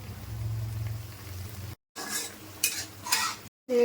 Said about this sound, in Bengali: এবার টকের মধ্যে মাছগুলো দিয়ে দিচ্ছি, দিয়ে দিচ্ছি একটু চিনি।